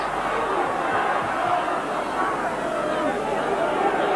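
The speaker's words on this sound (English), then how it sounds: "with the Boulevard crowd now on its feet and roaring him on" A rugby crowd at the Boulevard, Hull, roars in a steady, dense wall of cheering and shouting, with commentary heard over the top.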